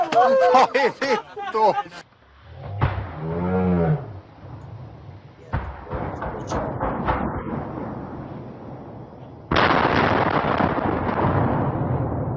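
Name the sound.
large explosion of explosives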